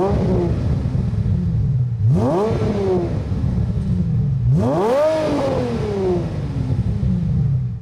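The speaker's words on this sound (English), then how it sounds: "Take a listen to a startup and some revs." An Aston Martin DB AR1 V12 idles with a deep rumble, then is revved hard twice, each blip climbing sharply and easing back down to a steady idle.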